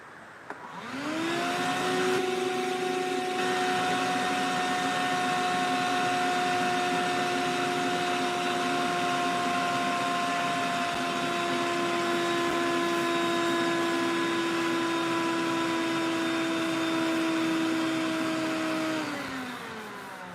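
A vacuum cleaner runs steadily for about twenty seconds, its motor whine holding a constant pitch before winding down at the end.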